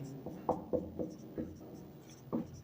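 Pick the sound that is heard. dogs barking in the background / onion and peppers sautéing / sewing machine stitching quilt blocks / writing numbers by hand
writing numbers by hand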